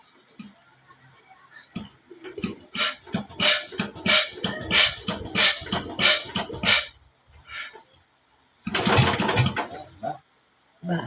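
A boat engine cranks and catches, running in loud rhythmic bursts for several seconds, cuts out, then fires up again briefly near the end.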